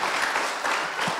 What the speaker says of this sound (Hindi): मैं एक ताली बजा के धन्यवाद देखो